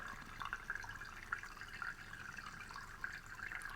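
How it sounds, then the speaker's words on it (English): Water pours from a homemade levitating fountain tap in a quiet, continuous trickle with faint splashing, low in level and with no voices. "As you can see, water is coming from the levitating tap and moving here."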